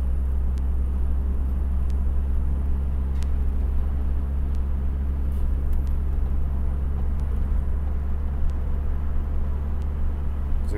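A 1991 Honda Accord with a newly repaired vehicle speed sensor drives along and shifts gears smoothly: a steady, close engine and road rumble runs the whole time, unbroken and even, with no talk.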